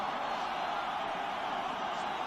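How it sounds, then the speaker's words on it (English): A stadium crowd roars at a Steelers versus Oilers football game, a dense, steady wall of cheering that holds at full strength without a break for a couple of seconds. "And now this crowd revs it up."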